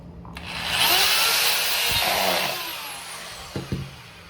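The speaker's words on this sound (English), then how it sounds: "I got my power drill right here." A power drill driving screws whirs up to speed and runs for a couple of seconds, then winds down, followed by a few short knocks nearby.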